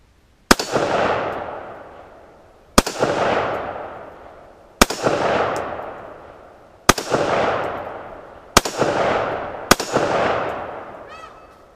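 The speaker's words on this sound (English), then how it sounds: "I was purposely trying to walk the target. This way I could see my shots as they hit" Six sharp TulAmmo .223 rifle shots at an outdoor range, evenly spaced about two seconds apart, each a loud close crack trailed by a rolling echo that fades before the next.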